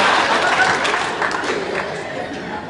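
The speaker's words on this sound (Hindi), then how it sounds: "तालियां मारो तुम लोग" A stand-up comedy audience breaks into loud, dense applause from close by, with some crowd chatter mixed in. The clapping fades slightly toward the end.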